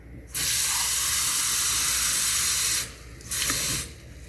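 Tap water gushing from a faucet into a plastic filtering drinking bottle, a loud, steady hiss that runs for a couple of seconds, stops briefly, then returns in a shorter burst.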